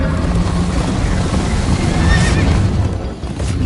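A horse in the Minecraft Story Mode video game whinnies loudly over the clatter of galloping hooves and a rushing background, a single neigh rising near the middle.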